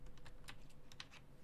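Quick taps on a computer keyboard, about ten crisp clicks in an uneven burst over a low hum, close and fairly quiet.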